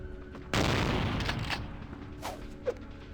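Shotgun blast in the video game Vampire: The Masquerade Bloodlines, one loud close boom with a long rumbling decay, followed by a smaller sharp crack near the end.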